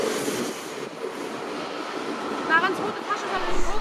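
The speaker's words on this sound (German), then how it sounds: "Nach dem Verlassen der Station geht es nun mit einer Brücke über die Helgoländer Allee hinweg wieder in einen Tunnel hinein." Hamburg U3 U-Bahn subway train rolling over a bridge above Helgoländer Allee and into a tunnel, a steady rumble of wheels on rails with a brief squeal, close and continuous.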